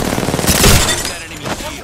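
Enemy gunfire rattles in Apex Legends, a loud rapid burst of automatic shots close by with voices over it.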